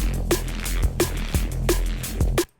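A heavy distorted neuro bass synth, made in Vital for drum and bass, growls in a repeating pattern with punchy hits, loud and continuous before cutting off abruptly.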